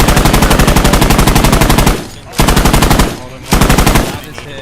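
Machine gun fire in a military video game comes in three loud, close bursts of rapid, evenly spaced shots, the first long and the next two shorter, separated by brief pauses.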